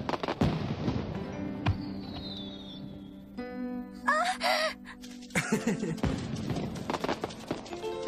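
Firecrackers burst in an anime scene, sharp cracks and pops scattered through the clip alongside a whistling streak and dramatic vocal gasps and groans.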